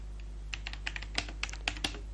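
Keys clatter on a computer keyboard as a Google search is typed, a quick irregular run of close, crisp clicks over a low steady hum, with no talking.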